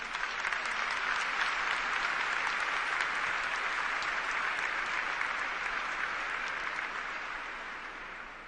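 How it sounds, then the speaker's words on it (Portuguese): A church congregation applauds after a scripture reading at a Catholic Mass, sustained dense clapping that holds evenly for several seconds and then begins to taper off at the end. "Vamos aplaudir essa palavra."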